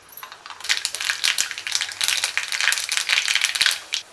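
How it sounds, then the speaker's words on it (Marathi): Mustard seeds spluttering and popping in hot oil in a kadhai on a gas stove, a dense run of sharp crackles and pops that starts after a brief quiet and goes on steadily and close. "तेल गरम झाले, मोहरी टाकूया।"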